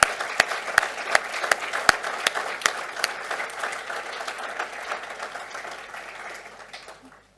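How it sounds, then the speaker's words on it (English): An award ceremony audience applauds warmly, with a few sharp, close claps standing out early, then the clapping gradually thins and fades to silence. "A huge round of applause."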